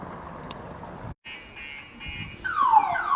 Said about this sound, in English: This small white van has an impressive alarm system.